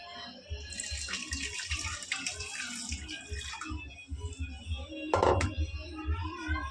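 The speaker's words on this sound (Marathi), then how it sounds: "आणि हे पाणी त्याच्यात टाकूयात" Water splashes and pours into a metal pressure cooker in a steady rushing stream, ending with a louder gush and a few clanks.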